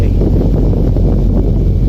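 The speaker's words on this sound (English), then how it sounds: "It's quite windy" Loud, constant low rumble of wind buffeting the microphone aboard a narrowboat on the tidal River Trent, steady throughout with no voices.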